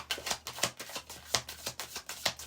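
A deck of cards is shuffled in quick repeated riffles, crisp close-up bursts arriving in an even rhythm, with no voices over them.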